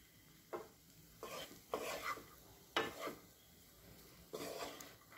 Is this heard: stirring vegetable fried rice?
yes